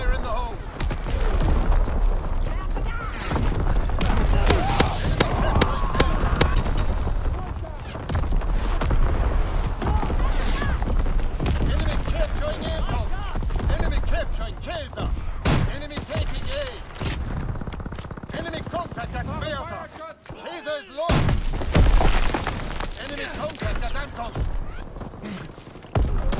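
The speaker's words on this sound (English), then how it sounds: "Incoming enemy artillery." Call of Duty: WWII battle scene with artillery fire and explosions: dense, continuous booms and gunfire layered over mechanical clanks, loud throughout with a brief lull near the end before another heavy blast.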